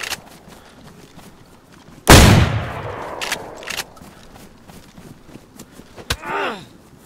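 Gunfire in a video game gunfight: one loud, sharp shot with a long decaying tail, a few fainter cracks and thuds after it, and a later short burst, with no talk.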